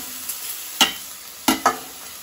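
Red amaranth greens tipped into a pan of frying onion and chillies: a low steady sizzle with three sharp scraping or clattering bursts as the greens go in and are stirred, no voices.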